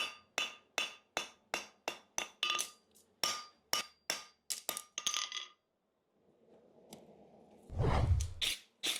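Sharp metallic hammer blows ring out on a horseshoe during forging, about a dozen quick, evenly spaced clangs followed by a pause, a soft shuffle and a low thud.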